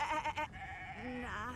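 A sheep in the video game Divinity Original Sin 2 gives a couple of close, loud wavering bleats, with a lower tremulous bleat trailing after.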